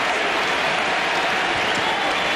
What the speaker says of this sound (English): This crowd is alive.